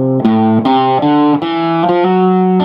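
A slow blues rock lick on distorted electric guitar moves from the 1 chord to the 4 chord in a handful of sustained, bending notes, each picked note ringing loud and close with no talking.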